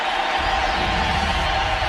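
A baseball stadium crowd in St. Louis roars continuously in a steady, dense wash of cheering, calling for Mark McGwire's curtain call at a 1998 Cubs game.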